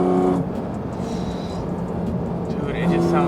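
A Porsche 911 GT4 RS with the Weissach package drones steadily at part throttle, then its intake note swells louder near the end as it opens up, with someone talking over the engine.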